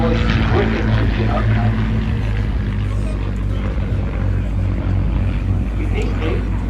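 A Spitfire Mark 19 with a 36.7-litre Rolls-Royce Griffon engine flies a display at the 2024 Southport airshow, its loud, steady propeller drone filling the whole stretch beneath a commentator's voice.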